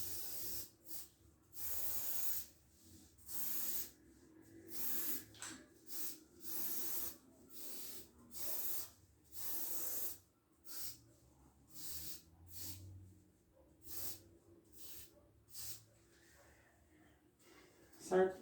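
An aerosol spray paint can hisses out graffiti colour on a character in repeated short bursts of about a second each, separated by brief pauses, close and fairly loud.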